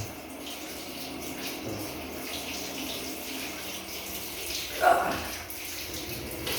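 Water runs steadily from a hotel room tap, a constant close splashing rush with a brief louder gush near the end.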